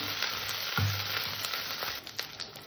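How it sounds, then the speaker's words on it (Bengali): Garlic paste frying in a pan for methi katla fish curry, a continuous dense sizzle with a soft thump early on and light stirring scrapes, close and alone. "একটু রসুন বাটা, রসুনটাকে আমি হালকা করে কষে নেবো যাতে কাঁচা গন্ধটা না থাকে।"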